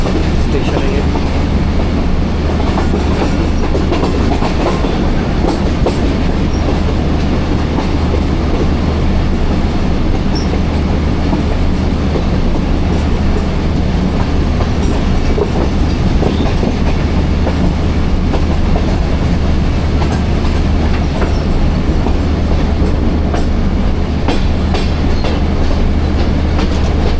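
Train rolling through Sihala station on the Rawalpindi to Lahore line, heard from on board as a loud continuous rumble with steady clickety-clack of wheels and occasional squeal throughout.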